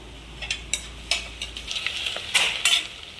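A spoon stirs masala into a homemade biryani mixture in a pan, with several sharp scraping strokes and clinks against the metal and a faint sizzle between them, close and fairly loud, with no talking.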